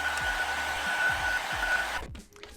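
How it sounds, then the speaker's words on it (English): A heat tool blows with a steady, fan-driven whoosh while it warms the adhesive pull tabs under a swollen iPhone battery. It cuts off abruptly about two seconds in, leaving near silence. "we're gonna use a little bit of heat and loosen up these pull tabs"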